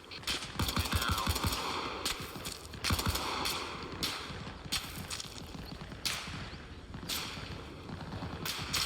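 Gunfire in the woods in Arma Reforger, with sharp cracks and bursts of shots at varied distances over steady outdoor background noise, some rounds striking a tree, with no talk.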